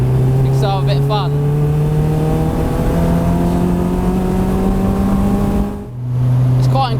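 Caterham 620S sports car engine while driving, a loud, close drone with rising pitch sweeps as it accelerates through the gears, briefly cutting out before picking up again; someone talks over it.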